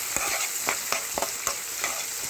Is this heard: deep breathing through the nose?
no